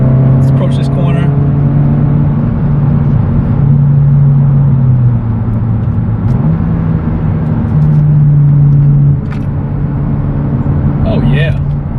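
A tuned 11th-generation Honda Civic Si drives into a corner, its steady engine drone holding loud and close, dipping briefly in pitch midway as the car slows, then rising again, with road rumble throughout and a voice speaking in the cabin.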